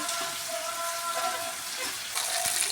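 Chicken feet being fried for Bengali kosha in a pan in a village kitchen, giving a steady, close hiss of sizzling oil with a brief louder surge of crackle near the end.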